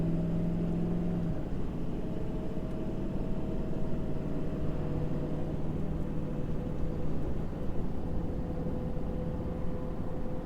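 A Ford F550 truck on new Toyo M608 tires gets up to speed on a main road, a steady low engine drone and road rumble heard from inside the cab, with no talk.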